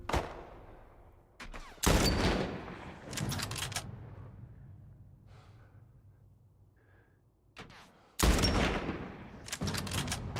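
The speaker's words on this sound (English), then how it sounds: "now we get the mounted gun" Mounted gun firing in The Last of Us, loud sharp bursts of gunfire in separate volleys with quieter gaps between, close and punchy, no talk.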